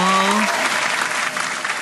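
Brief burst of crowd applause during a TikTok live session, dense clapping that follows a sustained sung or spoken tone and stays loud and even throughout.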